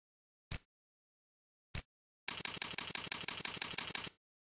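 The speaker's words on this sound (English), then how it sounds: "I'll just type TidyMom.net into the browser's address bar." Keys clack on a computer keyboard as a web address is typed: two isolated taps, then a quick run of about two seconds of evenly spaced keystrokes, close and clear in a quiet room.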